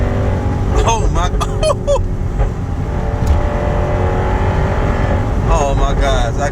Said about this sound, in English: Oh, shifting at high RPMs.